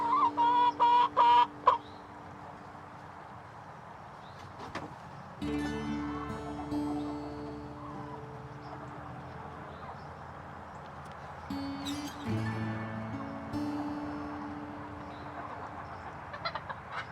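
Chickens cluck and squawk inside a coop laid with fresh straw. A few sharp, close calls come first, then a steady run of overlapping clucks and murmurs continues throughout.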